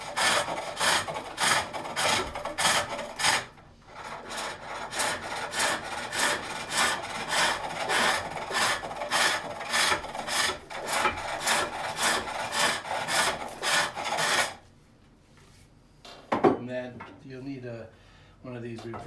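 A reverse grind hook tool cuts wood on a foot-powered pole lathe while turning a Swedish-style locking lidded box, giving a fast, steady run of rasping strokes that pause briefly and then resume, with a short spoken remark at the end.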